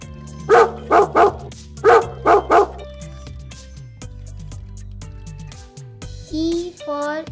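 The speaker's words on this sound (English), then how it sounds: "D for dog" A dog barks in two quick bursts of three, bright and close, over a bouncy children's phonics song with steady music underneath.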